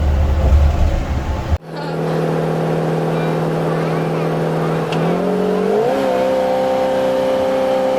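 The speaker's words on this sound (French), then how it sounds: "Le moteur essence." A petrol car engine climbs a steep hill, holding a steady drone at high revs, then rises in pitch twice as it revs harder, loud inside the cabin after an abrupt cut from earlier noise.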